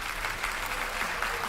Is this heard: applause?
yes